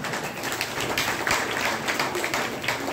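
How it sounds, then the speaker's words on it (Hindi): An audience at a health and wellness talk claps together. The applause is a dense, continuous patter, fairly loud and even throughout, with no clear talking on top. "अपने लिए फिर से ताली बजाइए"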